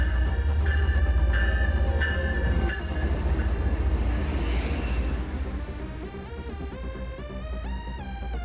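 An MBTA commuter rail train at Haverhill station in Massachusetts gives a loud, steady low rumble with a tonal whine that climbs in pitch, heard alone without voices.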